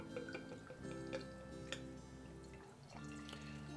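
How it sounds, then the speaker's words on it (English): Blood Brothers Brewing Hail Saison with honeydew trickles and splashes into a Muskoka Brewery IPA glass, a faint liquid pour with light drips, partly masked by steady background music. "let's pour it into my Muskoka Brewery's IPA glass"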